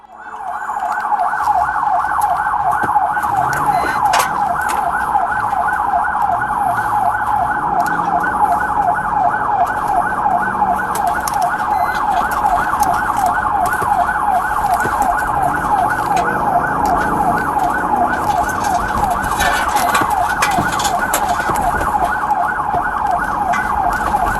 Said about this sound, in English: Even with sirens blaring and blue and red lights flashing